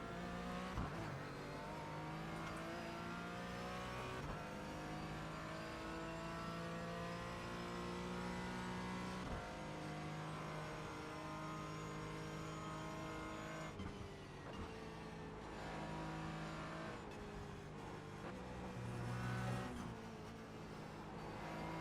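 Porsche Cayman GT4 engine in the iRacing simulator, a steady loud howl rising and falling through gear changes as the car laps a racing circuit, continuous for the whole stretch with no talking.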